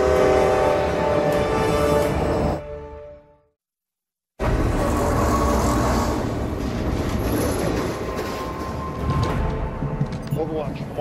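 A train rumbles past on the rails, loud and close, with a steady roar, a sudden cut to silence, then the heavy clatter resumes.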